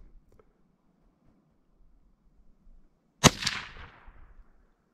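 A single sharp gunshot from a Henry .22 Magnum rifle cracks once, loud and close, during an accuracy test at a range, with a short decaying tail and near silence before it.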